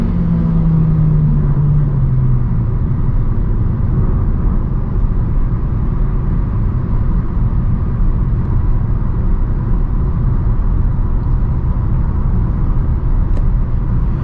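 A 2021 Mercedes-Benz A200 4Matic in efficiency mode accelerates toward 100, heard from inside the cabin as a loud, steady engine and road rumble. A low engine tone climbs briefly at the start, then the drone holds evenly throughout.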